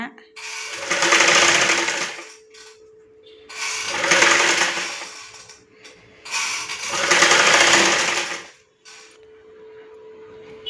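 An electric sewing machine stitches piping onto a garment neckline in three long, loud runs of rapid mechanical whirring, each rising and easing off, with short quiet pauses between them.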